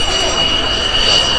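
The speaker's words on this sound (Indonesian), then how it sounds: "Jet tempur." A toy fighter jet airplane gives off a steady, loud electronic jet-engine whine with a sustained high tone over a constant rushing hiss, unbroken throughout.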